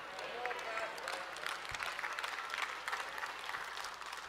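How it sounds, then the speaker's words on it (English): Church congregation applauding during a sermon, a fairly quiet, steady patter of clapping that carries on throughout, with a voice speaking faintly beneath it. "It seems like the claps are getting lower and lower and lower."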